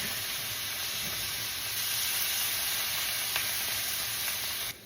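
Mushrooms sizzle in a frying pan for a low-carb Philly cheesesteak, a steady close hiss of frying that rises slightly partway through and cuts off abruptly at the end.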